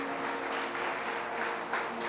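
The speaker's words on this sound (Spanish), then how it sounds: "Dele un fuerte aplauso a Dios por eso." A church congregation bursts into sustained applause during a Spanish-language worship service in Barinas, Venezuela, a dense, steady clapping that fills the room throughout.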